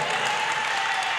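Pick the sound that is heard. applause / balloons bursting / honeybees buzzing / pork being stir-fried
applause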